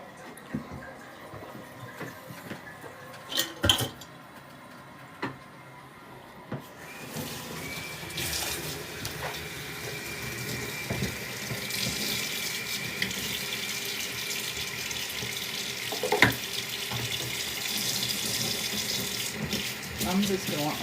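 A tap runs warm water into a sink in a glass studio: scattered clunks and knocks open, then a steady rush of flowing water fills the rest, with a few brief louder bumps and some voices in the room.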